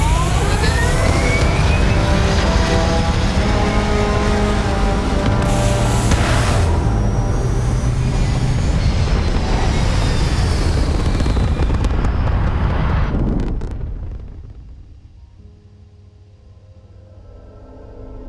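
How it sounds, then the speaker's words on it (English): Spaceship engines firing at launch in the game Starfield, a loud, dense roaring rumble with rising tonal whine that holds steady for about thirteen seconds, then drops away to a faint low hum. "Engines firing."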